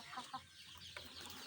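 Kampung KUB chickens in a coop give a few short clucks over soft background noise, fairly quiet and close.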